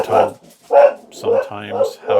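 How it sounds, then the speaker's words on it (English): A dog barks in several short, loud bursts close by, with brief pauses between them, heard indoors during a Marvel Champions card game session. "Excuse my dog."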